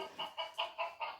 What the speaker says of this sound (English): It's a chicken, but I don't know.